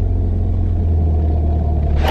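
A track car idles with a loud, steady low engine rumble while its driver tries to pull away in first gear against the handbrake, with no clear rise in revs across the short stretch.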